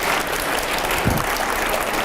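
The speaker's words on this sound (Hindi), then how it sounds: "जोरदार तालियां हो जाए, जोरदार तालियां।" Dense, steady applause from an audience at a televised political interview session, loud and continuous throughout, with a faint voice briefly under it.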